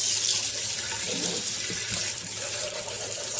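Tap water runs steadily into a sink as raw chicken feet are rinsed, a continuous close hiss with soft splashing and faint handling sounds.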